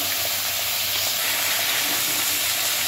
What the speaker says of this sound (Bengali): প্রথমে আলু আর আমি ডাঁটাটা দিয়ে, সজনে ডাঁটাটা দিয়ে 3-4 মিনিট ভাজা করব